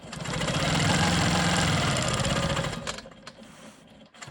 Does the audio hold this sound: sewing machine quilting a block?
yes